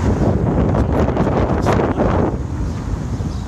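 Wind gusts buffet the microphone on an outdoor walk near Orrell Water Park, loud rumbling bursts that ease off slightly toward the end, with no talking.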